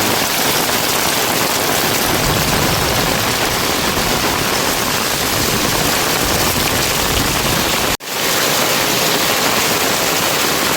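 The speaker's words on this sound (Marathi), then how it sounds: "पाऊस भरपूर आहे." Heavy monsoon rain roars down in a village hamlet, a loud, dense, unbroken wash of noise with one brief dropout near the end.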